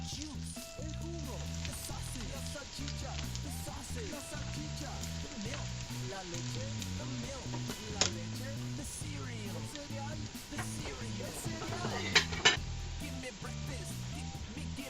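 A Spanish tortilla fries in a pan with a soft, continuous sizzle and occasional light clinks, under quiet background sound.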